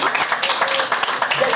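Congregation in a church clapping to welcome a newcomer at a Pentecost service, a dense, steady patter of many hands filling the short stretch with no pauses.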